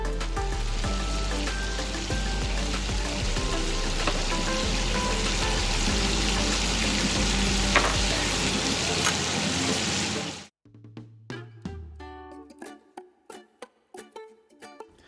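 Chicken pieces searing in a pan for shoyu chicken, a loud dense sizzle for about ten seconds that cuts off abruptly, followed by scattered clinks and light knocks.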